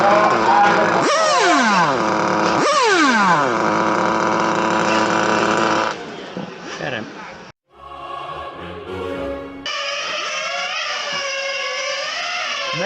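A 1/8 on-road RC racing car's nitro engine screams loud and close at the Italian championship, Pro Class, making strange misfires and sweeping up and down in pitch as it revs, then briefly cuts out before restarting at a high, steady whine.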